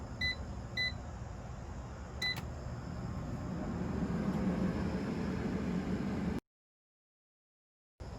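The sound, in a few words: air fryer beeping when done cooking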